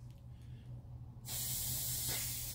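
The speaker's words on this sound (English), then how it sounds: "turn the can over, and that rattle blocks the paint from coming out, and then just push the spray button until you hear a change in the sound" Inverted spray paint rattle can with its nozzle held down to clear it, giving a sudden loud steady hiss that starts partway in and runs to the end over a low background hum.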